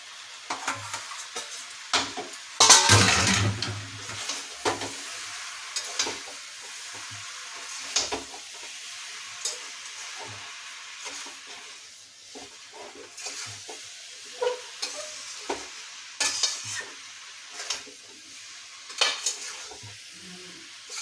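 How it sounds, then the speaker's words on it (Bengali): Prawns fry with jackfruit and potato as they are stirred in a pan, giving a low sizzle under repeated scrapes and metallic clinks of the spoon against the pot, with one louder burst of sizzling early on. "চিংড়ি মাছটা আমি দিয়ে দিচ্ছি, চিংড়ি মাছ দিয়েও কষবো"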